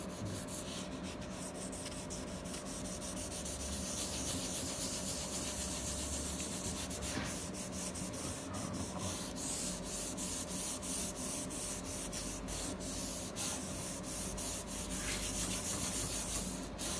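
Steady, continuous rubbing of sandpaper across wood, a dry scratchy texture repeating in strokes for the whole stretch, close and moderately loud with no talking.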